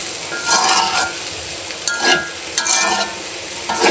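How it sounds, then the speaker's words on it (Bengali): Potatoes fry and sizzle in a pan while being stirred, with a steady hiss broken by several louder scraping stirs across the pan. "এই যে আলু দিয়ে ভাজতেছি কিন্তু।"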